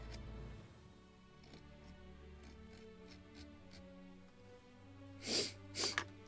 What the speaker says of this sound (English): I want to sneeze more.